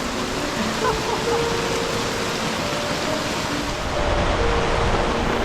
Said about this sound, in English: it has continued to rain at about the same level of rain